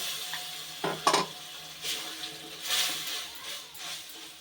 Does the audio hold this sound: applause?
no